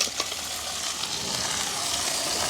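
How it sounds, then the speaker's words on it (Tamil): Crab pieces fry in a pan over sautéed onion and green chili, giving a dense, even sizzle with stirring scrapes throughout, close and continuous with no voices. "இப்போ நாங்கள் உடைச்சி கழுவி வச்சிருக்கிற நண்டை போடுவோம்."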